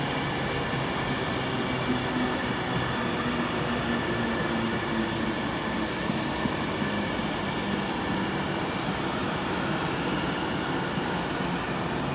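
A class 390 train arrives at Milton Keynes Central station on the West Coast Main Line, a loud, continuous rumble and roar of the passing train with a steady high whine that holds for the whole stretch.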